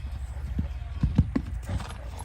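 Hooves of a mare and her foal clip-clopping on the ground as they move about, several irregular thuds close by, with a faint whinny and some background voices.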